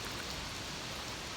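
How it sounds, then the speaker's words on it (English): Steady cold rain falls on a riverside campsite along the Körös river in Hungary, a continuous dense hiss of drops with no voices. "Finally, it's raining."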